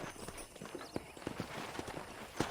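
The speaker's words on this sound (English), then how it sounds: "I picked out a fine horse for you." Horse hooves clip-clop in a steady walking rhythm on a ranch in the video game Red Dead Redemption, fairly faint against quiet outdoor ambience.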